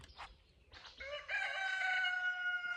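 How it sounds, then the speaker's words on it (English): A yard rooster on a homestead crows loudly and close by, one long drawn-out cock-a-doodle-doo rising after a few short clucks, with no talking. "I have one cantankerous yard rooster."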